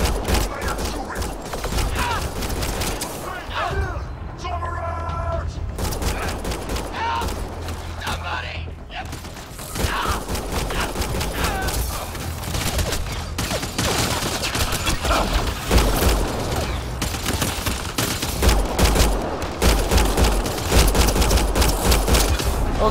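Sustained weapon fire in the sci-fi shooter Mass Effect Andromeda, dense overlapping shots and bursts under voices shouting over the fight, loud and continuous throughout.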